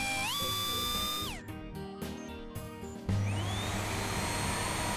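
A small cartoon hairdryer blows steadily in a snowy winter storm scene, a loud continuous whir that shifts pitch partway through and continues unbroken to the end, with no talking.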